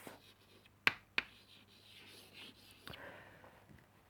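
Marker or pen writing a word by hand on a board or paper, a few quiet rubbing strokes and sharp taps, close and faint in a quiet room.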